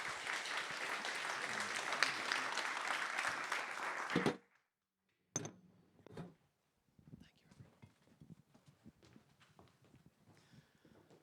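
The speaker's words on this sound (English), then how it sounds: "please give our panelists a round of applause" Applause for panelists at a policy discussion event fills the room with sustained clapping for about four seconds, then cuts off abruptly, leaving scattered thumps, shuffling and movement noises.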